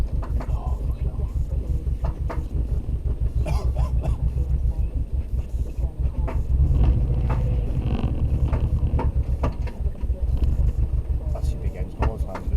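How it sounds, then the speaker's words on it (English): A Cupra R engine with a blown big end idles with a rapid, steady low knocking rumble, close and continuous, while people talk over it. "That's your big end, it's gone by the sound of it."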